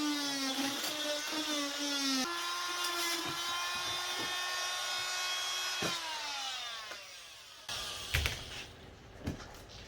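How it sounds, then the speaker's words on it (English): A handheld oscillating multi-tool cuts out a car windshield on a Gambler 500 build, giving a sustained high buzzing whine whose pitch shifts as the blade loads up, stops and restarts. Near and steady, with clatter at the end. "Oscillating tool for the win."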